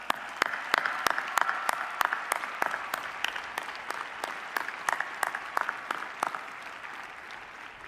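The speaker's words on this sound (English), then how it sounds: "Round of applause." Round of applause from a commencement ceremony crowd, a steady patter of many hands with sharp individual claps standing out, sustained at moderate distance and slowly thinning toward the end.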